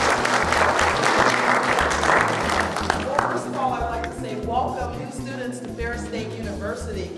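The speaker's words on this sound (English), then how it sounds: "So let's give her a round of applause" Students at a Ferris State transition event break into loud, dense applause that gradually thins out, and a voice talks over the fading clapping.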